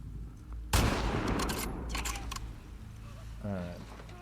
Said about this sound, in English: That's bad shooting.